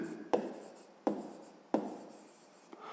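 A pen writes on paper in three quick, distinct strokes with soft scratching between them, close and quiet in an otherwise still room.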